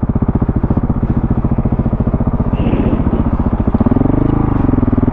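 A KTM 690 Enduro R and a WR250R motorcycle running close by, a loud steady idle chugging in a regular rhythm, then a second engine note rising briefly toward the end.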